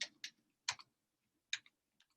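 Password being typed on a computer keyboard: a few scattered, quiet clicks and taps in small clusters with gaps between, near and faint, no talking.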